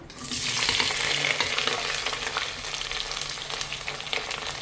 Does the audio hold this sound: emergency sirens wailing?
no